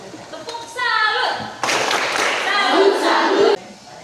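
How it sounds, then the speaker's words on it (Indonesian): A short round of rhythmic clapping by children in a classroom, a few quick bursts of hands in a patterned cheer, mixed with a teacher's and kids' voices talking over it. "Tepuk salut."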